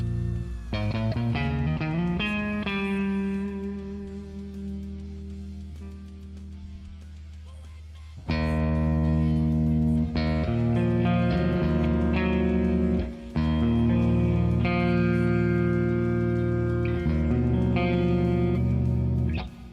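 Sustained electric guitar chords ring out with a wash of reverb, a quieter passage giving way to louder strummed chords that trail off with long decays.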